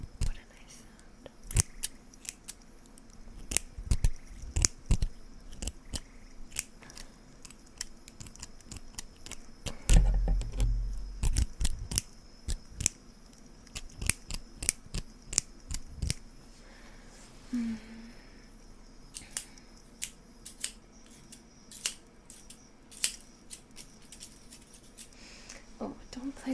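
Scissors snip in scattered short crisp bursts over a long stretch, close and intimate, alongside soft whispering and low murmured talk at a sleepy late-night fireside.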